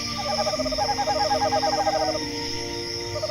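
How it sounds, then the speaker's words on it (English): An owl hoots at night in a repeated, warbling series of calls over a steady background hum, fairly near and clear, with no talking. "Certain owl species, such as the Eurasian eagle owl, tend to be more talkative during a full moon when they hoot their hearts out from high perches."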